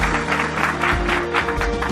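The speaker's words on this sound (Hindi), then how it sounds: "बजाओ इनके लिए जोरदार ताली।" A crowd at a Hindi motivational speech gives a burst of loud applause. The clapping is dense and continuous and stays fairly close and full for the whole two seconds.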